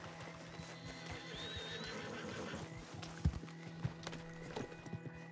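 In the video game Red Dead Online, a horse whinnies and hooves clip-clop at a quiet level, with a few sharper hoof thumps near the end.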